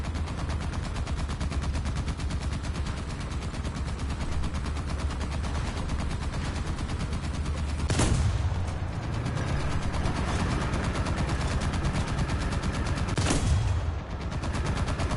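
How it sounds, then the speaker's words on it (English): Machine guns chatter in a War Thunder battle as a dense, continuous stream of rapid mechanical shots, loud and close, with two heavier bursts or impacts standing out near the middle and end. "Why do I just hear nothing but machine gun fire?"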